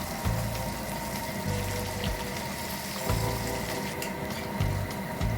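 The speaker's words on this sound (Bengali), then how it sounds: "বাকি মাছগুলো একই তেলে একইভাবে ভেজে নেব।" Fish frying in oil for a home-style fish curry with okra and potatoes, a steady crackling sizzle running throughout with low rhythmic bursts, close and fairly loud with no talking.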